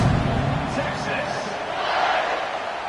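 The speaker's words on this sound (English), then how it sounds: "They're set to kick it off, and this crowd now ready to get behind them." A football stadium crowd before kickoff in a South Carolina versus Texas game makes a dense, steady roar with a broadcast voice over it.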